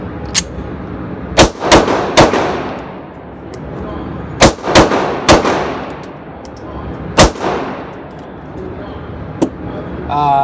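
Taurus PT1911 pistol fired during a torture test: about nine loud, sharp gunshots in quick pairs and triplets, each with a ringing tail. Faint talk sits between the bursts.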